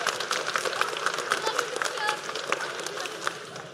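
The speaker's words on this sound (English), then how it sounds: "So can we get another round of applause?" Steady applause from the audience at a 7th and 8th grade school spring concert, a continuous patter of many hands filling a hall, with voices and murmurs mixed in.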